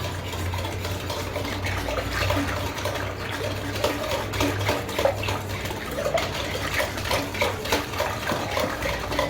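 Yeast and sugar being mixed in a bowl, a spoon clinking and scraping against it in a quick steady rhythm of small taps, moderately close, with a low hum underneath.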